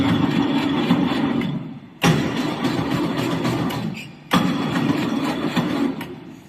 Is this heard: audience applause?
no